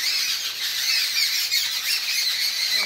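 Frightened birds squawk continuously in a shrill, dense, overlapping chorus close by, with no talking.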